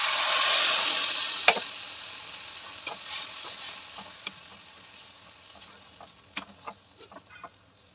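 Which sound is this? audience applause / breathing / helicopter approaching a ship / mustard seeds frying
mustard seeds frying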